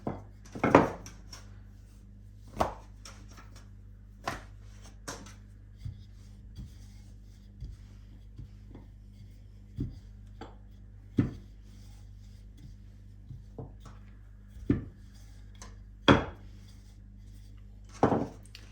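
Rolling pin working pastry dough for meat pies on a hard surface, giving sparse, irregular soft knocks and rubbing thuds, close and fairly quiet with a low steady hum underneath.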